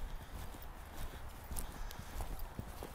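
Horse galloping in a riding lesson, a continuous run of soft, rapid hoof thuds in a loose rhythm, fairly near and moderately quiet, with no talk.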